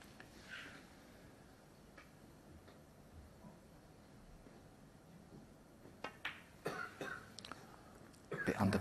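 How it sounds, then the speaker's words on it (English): An audience member at a snooker World Championship match coughs a few times in a quiet arena, faint distant bursts over low room hum that grow louder toward the end, with no talking. "It's just somebody coughing."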